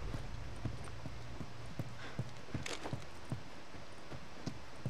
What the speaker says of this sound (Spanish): Regresemos con los caballos.